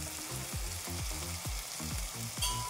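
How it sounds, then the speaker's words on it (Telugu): Boiled broad beans tumble into a sizzling onion, tomato and ginger paste, giving a steady hiss and crackle with repeated low scraping stirs, close and without talk. "ఇప్పుడు నేను చిక్కుడు గింజలు వేస్తున్నాను"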